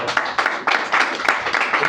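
Congregation at a church service claps in short uneven bursts, close and fairly loud, with voices mingled in.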